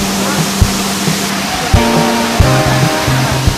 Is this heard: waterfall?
yes